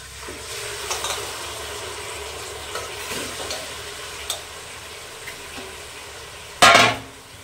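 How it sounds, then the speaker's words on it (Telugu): Mutton pieces go into a hot pot on a stove and fry with a soft, steady sizzle, with light stirring and utensil clinks and one sharp metallic clatter near the end. "మటన్ వేస్తున్నా."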